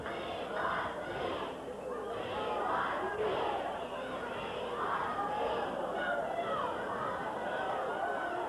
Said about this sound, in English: the crowd yelling, we want Steve